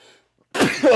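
One abrupt, loud sneeze bursts out after a brief hush and fills the last half second, close to the microphone.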